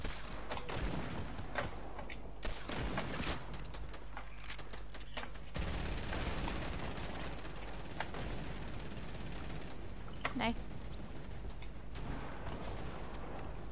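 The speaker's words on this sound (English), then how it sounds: "Someone has turrets." Automated turrets blast away in a shooter video game, a dense fusillade of overlapping gunshots and bursts that rattle on continuously, loud and close, with scattered louder hits.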